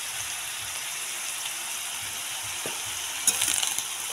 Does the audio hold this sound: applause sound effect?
no